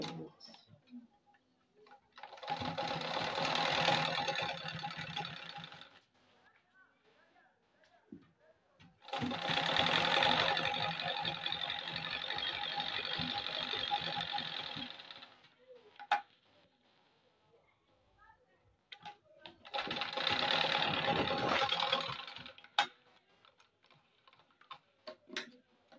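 A sewing machine stitches fabric for a DIY turban lift in three separate bursts. Each burst is a steady, rapid mechanical whirr of several seconds, with quiet gaps and faint handling clicks between them.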